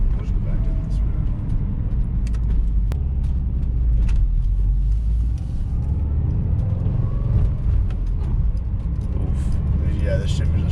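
A Subaru fitted with a Cobb short shifter drives along a road, its engine and tire noise making a steady low rumble from inside the cabin that continues throughout, while people talk over it.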